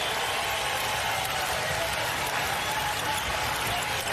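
A basketball arena crowd at a UConn versus Iowa women's NCAA Sweet Sixteen game rises and cheers, a loud, dense, continuous roar of many voices and applause that holds steady throughout.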